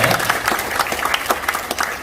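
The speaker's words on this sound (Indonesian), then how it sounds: "tepuk tangan buat Bapak Ibu semua ya" Brief burst of audience applause at a business presentation, a crowd clapping steadily with scattered sharper claps standing out.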